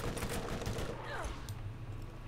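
Gunfire in the Borderlands video game, a dense burst of rapid shots at moderate volume that thins out into a lingering rumble, with faint game sounds behind.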